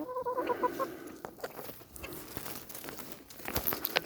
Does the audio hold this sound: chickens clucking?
yes